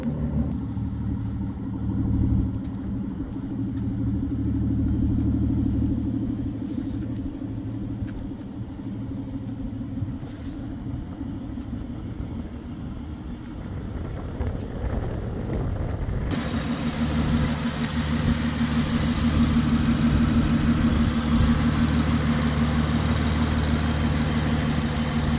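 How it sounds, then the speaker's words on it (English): A 2014 Aston Martin Vanquish with a V12 engine idles nearby, a steady deep rumble with a smooth low-frequency throb, joined partway through by a brighter broadband rush as the sound grows slightly louder. "Car sounds absolutely amazing."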